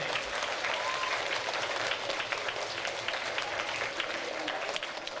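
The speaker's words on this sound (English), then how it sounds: "let's give Ms. Molina and all your teachers a big round of applause" Elementary school audience applauding their teachers at a district music-in-schools event, a continuous wash of many hands clapping, steady and moderately distant, with faint crowd murmur and some voices underneath.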